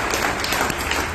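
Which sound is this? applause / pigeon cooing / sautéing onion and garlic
applause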